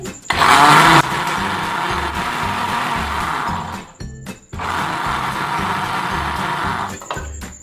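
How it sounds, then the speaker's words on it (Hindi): An electric blender grinds plum pulp for juice with a loud, steady whirring roar. The motor runs in two long bursts separated by a short pause, with a brief higher rattling whine at the start. "तो अब हम अपने पल्प को थोड़ा ग्राइंड कर लेंगे।"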